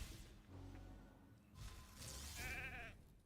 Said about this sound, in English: Ooh, nice sheep on my side.